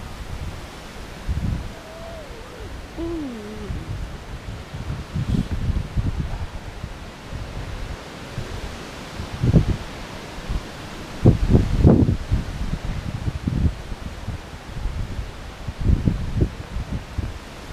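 Steady wind rushes through leaves in a continuous rustling wash, with occasional stronger gusts and a few faint thumps.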